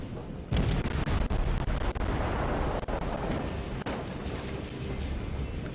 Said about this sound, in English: I got one broadside off